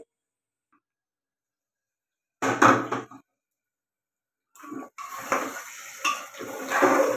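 Chicken curry being stirred in a pot: a short burst of metal scraping and clatter, a pause, then longer bouts of utensil scraping and knocking against the pot, close and fairly loud.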